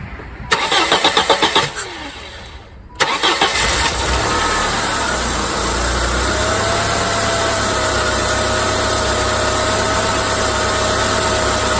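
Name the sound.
1999 Saturn SC1 SOHC engine starting and idling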